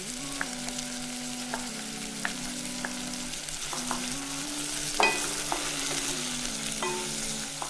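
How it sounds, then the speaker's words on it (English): Tomatoes tipped into a hot pan with meat for a tomato-ram sauce sizzle steadily, with a spoon stirring and scraping in light, irregular knocks over the continuous frying hiss. "next to go in, I'll add my tomatoes"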